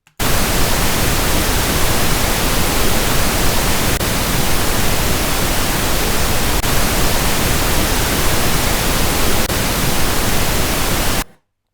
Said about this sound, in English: And now I go from 0 and I lower the level by 1 dB.